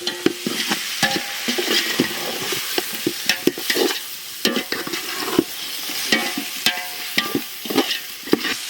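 Guinea fowl meat being stirred in a village-style biryani pot, with repeated scraping and clattering of the ladle against the metal over a steady soft sizzle, fairly close and continuous without talk.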